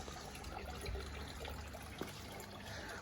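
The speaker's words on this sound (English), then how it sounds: "That water's still pouring in." Water pours and trickles into a garden pot holding a tobacco plant on an allotment, a soft continuous liquid flow with a few small splashes, faint and steady throughout.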